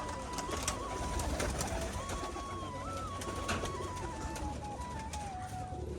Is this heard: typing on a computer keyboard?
no